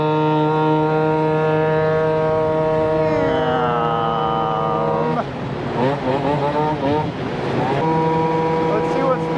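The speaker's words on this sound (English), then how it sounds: "God, these straight cut gears are so loud." Vespa scooter engine with loud straight-cut gears whining in steady harmonic tones that rise and fall as the rider accelerates and shifts, the whine dipping and then returning at full volume close to the rider.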